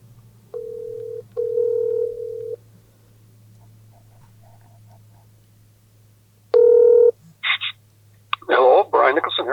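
A telephone call to a city councillor: a steady dial tone runs underneath, two bursts of tonal keypad beeps, then a loud ringback tone followed by clicks and a voice picking up.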